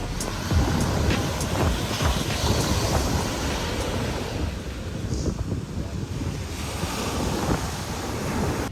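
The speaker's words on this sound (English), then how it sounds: "You can hear the ocean from your side." Ocean surf rolls and washes steadily nearby on a beach in the Outer Banks, North Carolina, mixed with buffeting wind noise against the microphone.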